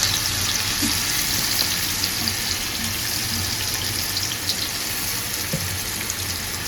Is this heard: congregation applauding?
no